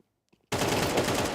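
Sustained automatic gunfire from Counter-Strike bursts in loud and close after a brief near-silence, a dense rapid rattle of shots that continues to the end.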